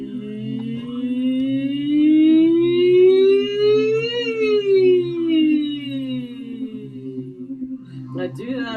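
A single human voice imitates a siren on a sustained E vowel, sliding smoothly upward and back down in one long sweep, close and clear, with a breath at the end.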